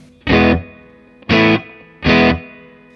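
Three loud, distorted guitar chords ring out through an overdriven Matchless HC-30 amp, each held briefly and cut off, with short pauses between.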